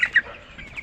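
Broiler chickens on a farm give short clucks and squawks close up, a brief burst of fowl calls with no talk.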